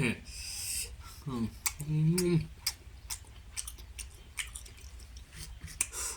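Someone eating fried rice with cauliflower and potato, with soft wet chewing and bites scattered through the clip, close to the mic, and a brief voice partway through.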